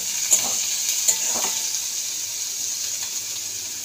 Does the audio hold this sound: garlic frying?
yes